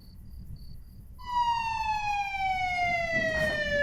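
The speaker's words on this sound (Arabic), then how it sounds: "الاسعاف وصلت بره." An ambulance siren wails outside, starting faintly as a distant repeated tone and then swelling into a loud, steady siren with a slowly falling pitch as it pulls up nearby.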